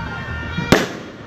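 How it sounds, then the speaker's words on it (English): One sharp, loud firework bang goes off at close range over steady background noise, with a short rumbling tail after the blast. "Started with some fireworks"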